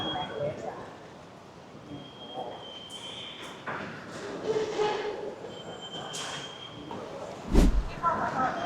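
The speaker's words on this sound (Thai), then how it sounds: "นี่ ใช่เมโทร" Ambience inside a Shanghai metro station, with a low rumbling hall drone, passing footsteps and scattered clatter, a brief loud clunk near the end, and people talking faintly in the background.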